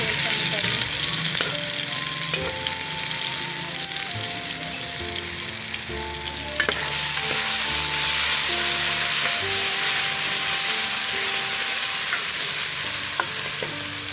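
Green chili paste sizzling and frying with chicken liver in a pan, a steady loud hiss throughout with a few stirring clinks, under faint background music.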